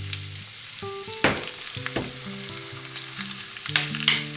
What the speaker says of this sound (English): Pour about half of the okonomiyaki batter into the frying pan.